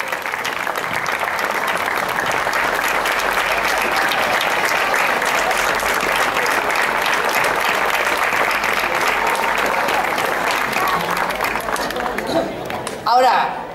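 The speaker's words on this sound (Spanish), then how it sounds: "Venga, ese aplauso para la rondalla." An audience at a folk music group performance applauds the rondalla with loud, steady clapping that continues for many seconds before fading, followed by some handling noise and chatter.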